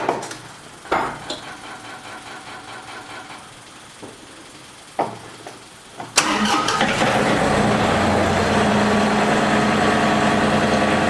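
John Deere 3025e tractor engine cranking with a few short starter bursts and rattles, then catching and settling into a steady, loud diesel idle that runs to the end.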